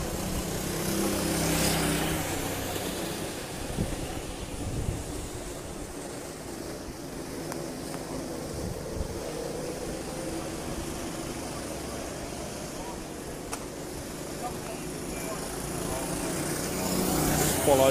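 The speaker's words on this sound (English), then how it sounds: "Jai Jordan there in the 3 karts." Racing karts run on a circuit at Monza, a steady buzzing engine drone going on throughout with slight swells as the karts pass, moderately loud, with commentary voices over it.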